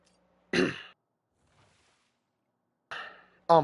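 Two short, throaty coughs separated by a few seconds of quiet, with a third bark starting right at the end; close and fairly loud.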